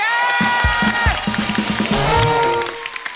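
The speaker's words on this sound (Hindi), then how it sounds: "जोरदार तालियां हो जाए पत्नियों के लिए" Studio audience of a comedy talk show applauding and cheering under a loud musical sting, with horn-like notes over the clapping before it fades near the end.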